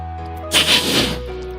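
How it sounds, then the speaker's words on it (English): A short breathy hiss of an angry or threatening cat, one brief noisy burst over a faint tonal background. "And lastly, we're looking at the hiss"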